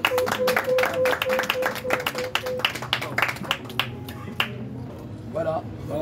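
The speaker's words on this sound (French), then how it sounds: "Vos applaudissements, s'il vous plaît." Audience clapping at an awards ceremony where a trophy is presented, sharp hand claps in an irregular burst over music and background chatter, thinning out toward the end.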